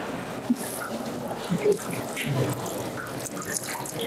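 Water is poured over a body during an Islamic corpse washing, with soft intermittent splashes and trickles running beneath quiet talk.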